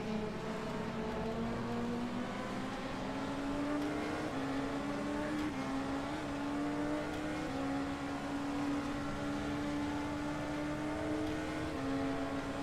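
Race car engine in a sim racing endurance game at Road Atlanta, a steady droning tone with a shifting pitch as the car brakes and downshifts into a chicane, loud and continuous with no talk.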